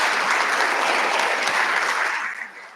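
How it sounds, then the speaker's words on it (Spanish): A crowd claps in sustained, even applause that holds steady before tapering off at the end. "pido un fuerte aplauso, por favor, para Jimena."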